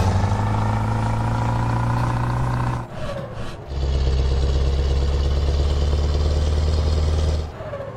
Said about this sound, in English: think the truck is a little loud.